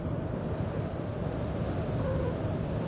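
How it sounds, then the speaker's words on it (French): Strong wind roars across the deck of the rescue ship Aquarius at sea, a dense steady rush of air and surf noise buffeting the microphone, with no voices. "Quand même pas mal de vent aujourd'hui."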